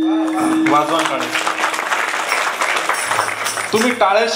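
Kirtan audience clapping along, a dense patter of hands under a singing voice with melodic tones rising and falling throughout, fairly loud and close.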